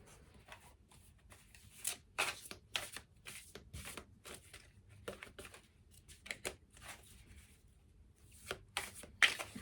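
Scented playing cards riffle and flick in steady bursts with soft papery slaps, close up and quiet, with no one speaking.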